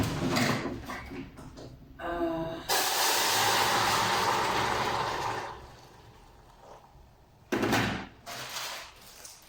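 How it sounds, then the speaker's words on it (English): Hot water pouring from a hot pot in a home kitchen, a loud sustained steamy hiss lasting several seconds after a few clicks, then fading, with another short burst near the end and a brief spoken sound. "that was the sound of a hot pot with hot water."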